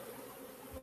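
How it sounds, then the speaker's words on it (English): Honey bees buzz around a hive box in a bee yard, a faint, steady, humming drone of many insects throughout the brief moment, with no talking. "look at all these bees from God knows where"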